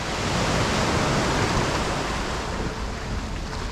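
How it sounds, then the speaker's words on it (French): Continuous roar of sea waves breaking along the shore beside a running route, a broad steady wash of surf close to the microphone with no voices. "je vous offre un petit peu d'ASMR, le bruit des vagues."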